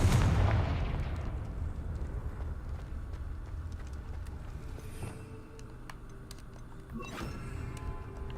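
In the Hogwarts Legacy video game, a Confringo spell cast sets off a loud booming explosion that fades into a long rumbling tail. A few sharper magical crackles and bursts follow later.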